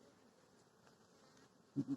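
Honey bees hum faintly on a hive frame, a low steady buzz with a louder close pass near the end.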